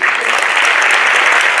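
Dense, steady applause from a gala audience, many hands clapping together at close range with no pause.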